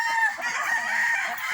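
Chickens clucking and a rooster crowing, a dense steady farmyard chorus of hens and cocks close by, continuous throughout with no pauses.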